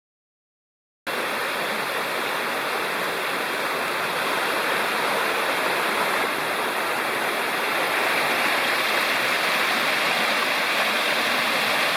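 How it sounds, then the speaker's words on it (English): A waterfall near an Appalachian trailhead pours in a steady, loud, close rush of white water that starts after a second of silence and holds unbroken to the end, with no voices. "The waterfall near the trailhead."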